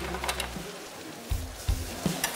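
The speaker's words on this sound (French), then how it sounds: "on déglace jus de citron" Pan-fried veal sweetbreads deglazed with lemon juice, giving a soft steady sizzle in the pan broken by a few low knocks and stirring bumps, close and modest in volume, with no talking.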